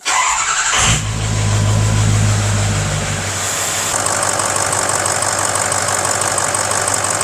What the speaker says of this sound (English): let's start the truck up and see how we did.